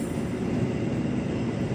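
Steady rumble and rattle of a passenger train rolling along the tracks at Jatinegara Station, close and continuous, with no voices.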